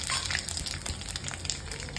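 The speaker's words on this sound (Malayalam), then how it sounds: "അല്പം പച്ചമുളക്, ഉള്ളി, ഇതെല്ലാം നമുക്ക് മെല്ലെ ഒന്ന് ഇളക്കി കൊടുത്ത് ഒന്ന് വഴറ്റിയെടുക്കാറുണ്ട്." Mustard seeds, curry leaves, onion and green chilli frying in hot oil for Mumbai vada pav masala, a steady close sizzle with faint crackles and stirring throughout.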